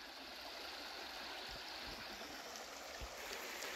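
Shallow, low stream water flows steadily over rocks outdoors on a mountain homestead, a continuous broadband rush with a few soft low thumps, close and alone with no voices.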